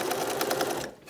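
A sewing machine stitches elastic into a protective fabric mask on a wide, long zigzag stitch, a loud close rapid whirring chatter that runs steadily, then stops near the end.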